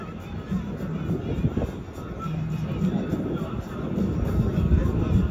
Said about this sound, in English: Look at that massive airplane out there turning around.